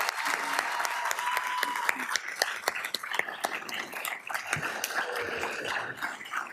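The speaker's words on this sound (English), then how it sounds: "So she deserves the biggest round of applause ever." Audience at a school board meeting applauding steadily, a dense wash of clapping from a room full of people that holds throughout, with a few murmurs mixed in.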